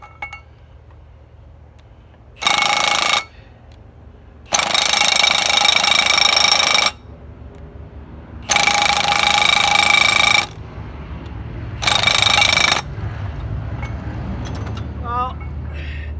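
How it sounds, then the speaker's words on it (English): A chisel is driven against a seized bolt on a Sauerman bucket, giving four loud sustained bursts of ringing, chattering metal hammering, with quieter gaps between them. "I'm going to chisel it some more."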